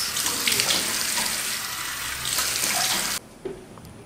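Tap water runs steadily into a sink with splashing, then cuts off abruptly, followed by a brief faint splash.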